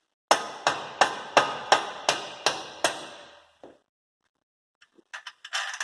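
Hammer blows drive a bolt through a Mazda Miata subframe: eight sharp metallic strikes in a steady rhythm, close and loud, then a pause and a few lighter taps and clinks.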